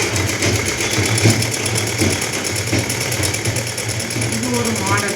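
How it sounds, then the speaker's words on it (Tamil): Sewing machine running a needle-point edge stitch on a blouse, a fast steady mechanical whirr throughout with a person talking over it. "ஊசி முனை தையல்னு சொல்லி அந்த எட்ஜு மட்டும் போடணும்."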